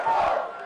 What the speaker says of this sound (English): Everybody's cheering, everybody's yelling, everybody's on their feet.